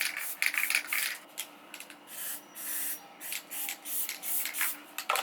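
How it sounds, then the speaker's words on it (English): Short hissing bursts of red spray paint on a hat, about a dozen in irregular rhythm, with brief quiet gaps between them, close to the microphone. "I'm going to take some red spray paint, kind of do something."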